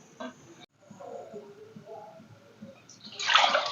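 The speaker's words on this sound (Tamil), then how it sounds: "ஊற வச்சு தண்ணியோடையே அப்படியே கொட்டிக்கலாம்." Soaked ingredients tipped into a pot together with their soaking water while making a coconut milk dish: a brief, close splashing pour that bursts in at the end after quiet kitchen sounds.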